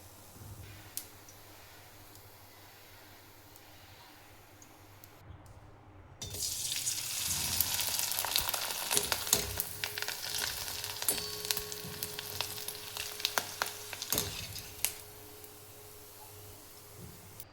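Traditional wheat kurdai deep-fry in hot oil. After a quiet start, a loud, dense crackling sizzle bursts in and carries on steadily to the end, with a few sharp pops, and no one speaks.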